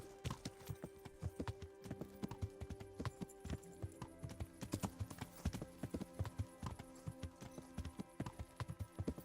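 Steady clip-clop of horse hooves in a quick rhythmic gait in the video game Kingdom Come: Deliverance, close and clear, with a faint low hum underneath.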